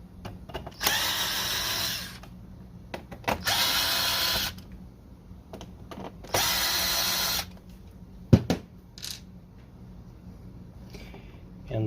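Power drill backing three screws out of an HP ENVY 114 printer, three separate whirring bursts of about a second each, close and loud, with brief handling clicks between them and some talk.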